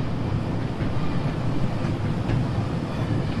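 A steady, dense rumble of a Class 101 train passing in the Train Sim World video game, continuous and fairly loud with no talking over it.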